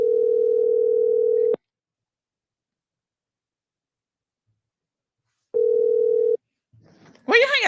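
Telephone dial tone after a call is hung up: a steady loud tone lasting about a second and a half, then silence, then the tone returns briefly before a voice begins at the end.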